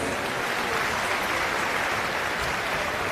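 A crowd at a World Environment Day gathering in Delhi claps together, a dense, even wash of applause that carries steadily from start to finish with no voices over it.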